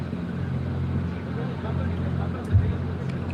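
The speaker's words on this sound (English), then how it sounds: "that's another trophy spec truck right there coming through." A trophy spec off-road race truck at the Baja 1000 passes with a steady engine rumble and a brief louder swell partway through, under people talking.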